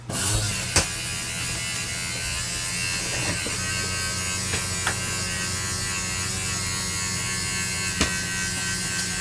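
Cable slide-out motor running on a 2020 Heartland Mallard camper, a steady close electric buzzing hum with faint clicks and ticks from the mechanism throughout.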